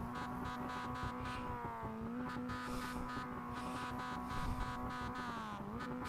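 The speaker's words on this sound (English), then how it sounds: "Who is revving their engine next to me?" A Mazda race car in the iRacing sim drones steadily at a constant engine pitch. Brief dips in revs and a light rhythmic ticking run through the sound, which stays fairly quiet.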